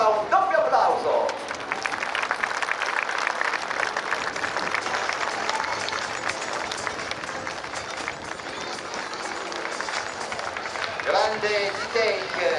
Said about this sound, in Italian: E da parte vostra un doppio applauso.